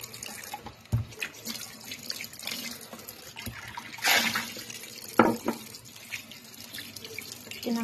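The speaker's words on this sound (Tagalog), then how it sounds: "So guys, hugasan natin yung tomato." Running tap water washing a tomato in a sink, a steady splashing stream with a few louder splashes and knocks as the tomato is turned under the flow.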